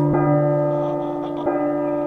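Church bells ring in the horror game P.T. with a loud, sustained metallic tone, struck twice about a second and a half apart over a lingering hum.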